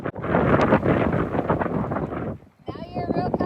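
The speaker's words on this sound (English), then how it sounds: "It's very windy today." Strong wind blasting the microphone at an outdoor cowgirl photoshoot in heavy low rumbling bursts, dropping briefly before resuming, with a person talking underneath.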